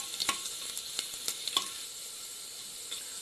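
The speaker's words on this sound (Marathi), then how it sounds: "लसणीच्या 4 पाकळ्या ठेचून घेतल्या होत्या, त्या टाकते. हे थोडं मी परतून घेते." Crushed garlic cloves sauté in a pan with a soft, steady sizzle, faint and close, broken by a few sharp pops and light stirring ticks.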